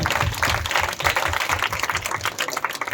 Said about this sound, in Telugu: వారికి కూడా ధన్యవాదాలు తెలియజేస్తూ గడిగి చప్పట్లు కొడదాం.